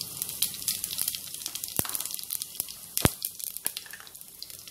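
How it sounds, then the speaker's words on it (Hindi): Cumin seeds, one tablespoon, sizzle in hot oil in a pan while rice is being made for a wedding feast. The crackle is light and steady, with sharp pops and ticks scattered through it, and no one speaks. "ये गरम हो चुका है, मैं इसमें जीरा डालूंगी।"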